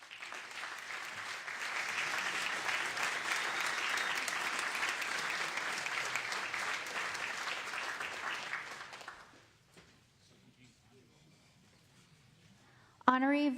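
Sustained audience applause for the mayor of Long Beach, filling the room for about nine seconds before fading into near silence, then a voice begins speaking at the very end.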